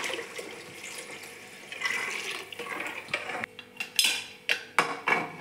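Water pours into a pot of rice, a soft running splash that gives way to a few sharp clinks and knocks of metal cookware.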